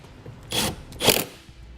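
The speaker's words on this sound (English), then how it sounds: "Now we'll push our taillight assembly back into position. And reinstall our 2 screws." Two short bursts of a power driver turn screws back into a trailer taillight assembly, close by and separated by a brief pause, with no talking.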